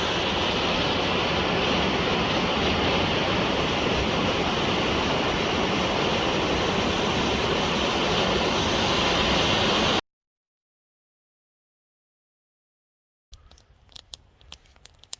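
Icy stream water rushes steadily in Pattison State Park, a dense, loud, continuous roar for about ten seconds, followed by silence and then a few faint knocks and rustles.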